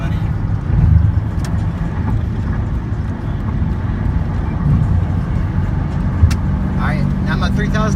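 A manual car's engine pulls after a downshift into fourth gear for passing. It gives a steady, loud cabin drone with someone talking over it.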